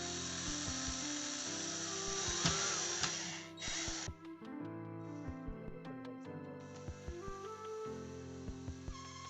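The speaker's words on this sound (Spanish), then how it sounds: "Voy a tomar mi atornillador." Power screwdriver driving a screw into a furniture panel, whirring motor bursts that rise and stop with a pause between, plus scattered clicks and light knocks, close and fairly quiet.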